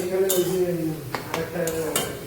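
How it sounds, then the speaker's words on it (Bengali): Chicken kosha cooking in a pan in a home kitchen, with steady stirring and scraping plus a few sharp metallic clinks of utensil on pan, close and moderately loud over a low sizzle. "তো এখানে রান্না হচ্ছে চিকেন চিকেন হচ্ছে চিকেন রান্না চিকেন কষা"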